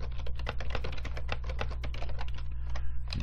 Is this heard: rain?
no